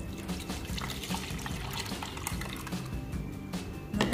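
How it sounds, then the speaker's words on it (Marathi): Lukewarm milk, one litre, poured steadily up close into the curd container of a Samsung Curd Maestro fridge, a continuous liquid stream with faint clinks of the container and no talk. "ते कोमट दूध आपण याच्यामध्ये घालूयात."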